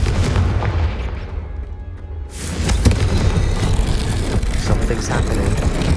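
Confringo fire spell bursting in Hogwarts Legacy, a loud booming blast that swells after a brief lull and rumbles on with dense crackling game noise and steady low rumble throughout.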